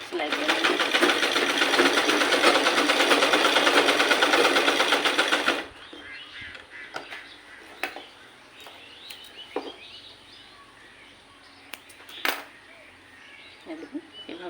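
A sewing machine stitching fabric runs in a loud, steady whirring burst for several seconds, then stops, leaving quiet room sound with faint clicks and handling.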